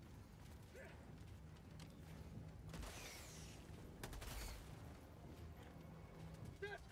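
Sentry gun in the video game Helldivers 2 fires rapid bursts amid battle noise, with louder volleys around the middle and other game sounds layered underneath.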